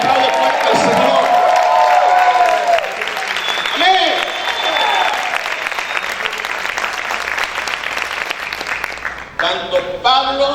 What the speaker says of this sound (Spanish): grite y aplaude fuerte al Señor